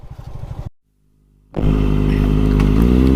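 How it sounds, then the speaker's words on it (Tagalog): A motorcycle heading up Tinawagan Hills in Baao, Camarines Sur, idles with a chugging putter, falls silent for a moment, then revs up into a loud, steady, close engine drone. "iakyat natin yung motor natin dito guys sa may Tinawagan Hills"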